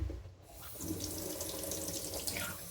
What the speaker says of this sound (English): I'm just gonna rinse my hand off before I get to grab the razor.